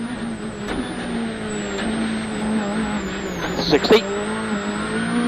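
A WRC rally car on the Spain 2011 Power Stage drives with a steady engine drone that rises and falls, plus brief louder bursts, heard under continuous commentary.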